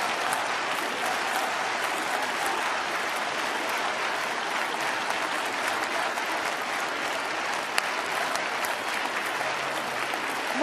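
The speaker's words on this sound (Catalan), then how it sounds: "Un fort aplaudiment per tots ells." Crowd at a rally for political prisoners' freedom on 11 November applauding, a sustained, even roar of many hands clapping at a large outdoor gathering, steady throughout with no voices rising above it.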